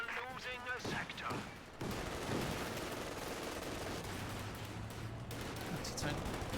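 An M1 anti-tank gun fires in a war strategy game, a heavy report kicking off a dense barrage of overlapping shots and explosions that continues to the end, with a voice heard talking over the opening.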